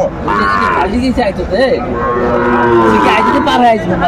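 Sahiwal cattle on a farm in Faridpur, Bangladesh, low repeatedly in loud, close moos that overlap one another, with faint human murmuring in the background.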